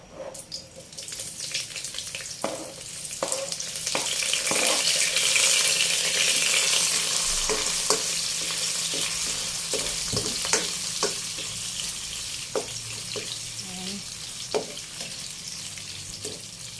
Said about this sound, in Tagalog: gisa ko na muna yung burger steak